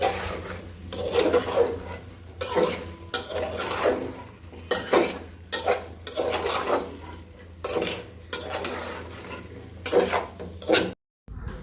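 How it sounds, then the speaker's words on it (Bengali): Potatoes stirred and tossed in a cooking pot, a utensil scraping against the metal in repeated rhythmic bursts about once a second, close and clear with no voices, ending in a brief pause. "আলুগুলো দিয়ে ভালো করে আবার একটু নাড়াচাড়া দিয়ে কষাই নিব।"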